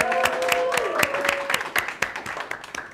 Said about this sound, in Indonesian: Kita beri tepuk tangan dulu kepada keempat pembicara kita pada segmen kali ini.